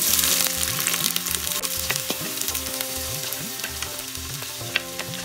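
Onions frying in hot oil inside an Instant Pot, a loud, dense crackling sizzle close up with repeated stirring sweeps, no speech.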